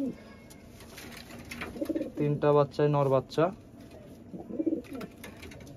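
Young high-flying pigeons for sale coo close by in a cluster of throaty, repeated bursts, with someone talking before and after the calls.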